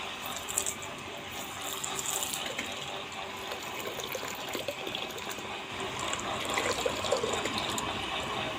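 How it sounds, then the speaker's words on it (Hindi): Water flowing into a house, a steady continuous gushing wash like a stream running across a floor, fairly close and even throughout. "ये अंदर अंदर पानी आ रहा है।"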